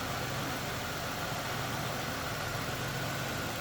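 The 3.8-liter 3800 engine of a 2003 Chevrolet Monte Carlo SS sits at idle, giving a constant, smooth mechanical hum with a low rumble underneath, unchanging throughout and without any speech.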